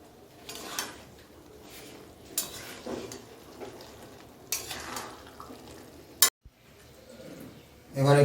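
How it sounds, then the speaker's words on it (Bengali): Ghugni, a boiled pea curry, is stirred gently in a pot with a spoon, making soft scrapes and light clinks in bursts, then a sharp knock, a brief silence and a louder clatter at the end. "এবার একটু ভালো করে নেড়ে চেড়ে নিচ্ছি।"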